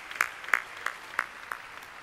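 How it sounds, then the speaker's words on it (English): A handful of separate handclaps at a music museum's legends gala, evenly spaced about a third of a second apart and fairly faint, tapering off over two seconds. "Let's give them a round of applause."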